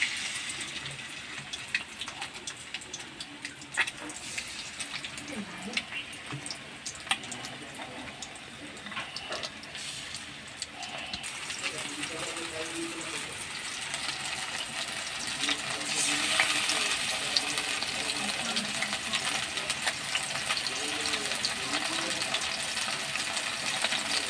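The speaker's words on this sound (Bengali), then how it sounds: "এভাবে প্রত্যেকটা মাছকেই আমি ভেজে নিচ্ছি।" Lote fish dipped in gram flour batter fry in hot oil, giving a continuous crackling sizzle that grows louder in the second half, with occasional clinks.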